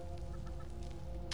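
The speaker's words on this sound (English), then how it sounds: "I can hear chickens." Chickens in a Fallout 4 game scene give soft, scattered clucks over a steady low in-game ambient hum, fairly faint and without any talk.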